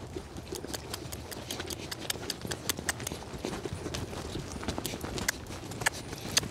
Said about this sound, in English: I'll lope her this way.